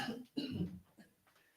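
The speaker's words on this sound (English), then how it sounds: "The two of us here in studio are coughing." Two people cough in a studio, a quick pair of close, loud coughs followed by a few softer coughs and throat noises, with no talking.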